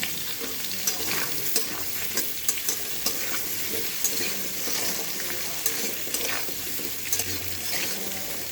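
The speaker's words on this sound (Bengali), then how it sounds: "এটা একটু ভাজা হোক ভালো করে।" Potato and taro pieces fry in hot oil in a pan while being stirred, giving a steady close sizzle with regular scraping clicks of the spoon and no talking.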